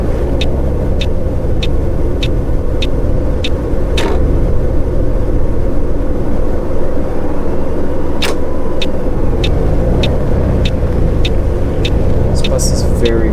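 A coach bus in Fernbus Simulator rumbles steadily at low pitch while driving, with a regular ticking like an indicator over the top and someone talking throughout.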